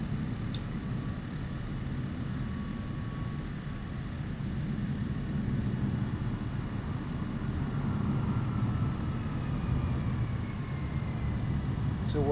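Airplane engine in a flight simulator game rising in pitch as the throttle is pushed up for a go-around on approach to Norfolk International, Virginia, a steady broad roar building slightly louder over the clip.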